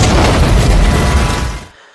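A large gas explosion in an Indian action film erupts as a loud, dense roaring blast that rumbles for over a second and a half before cutting off abruptly into silence.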